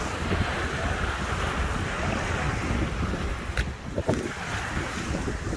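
Ocean surf washes in steadily on a shore by a lighthouse, a broad continuous roar mixed with heavy wind buffeting the microphone, with a couple of brief crashing bursts near the end and no talking.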